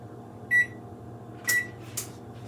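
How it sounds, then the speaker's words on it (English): Two short electronic beeps from an oven's control panel as its proof setting is selected, heard over a steady low kitchen hum, followed by a soft tap. "I've got a proof button on my oven"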